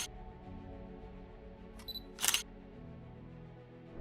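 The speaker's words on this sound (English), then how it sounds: "wait for the device to capture the image with the capture sound" A UIG WATCH detector gives a short high electronic capture chirp, preceded by a faint beep, against a quiet low background hum.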